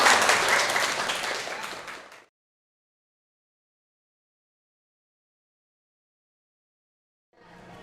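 Participants in a classroom teaching session clap together, a loud burst of many hands that fades out after about two seconds, followed by silence and a faint return of noise at the very end.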